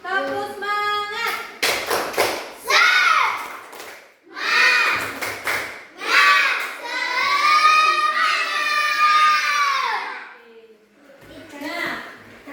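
Schoolchildren in an elementary classroom perform a rhythmic spirit clap chant, bursts of clapping patterns alternating with loud children's voices chanting together, close and energetic, with a teacher leading.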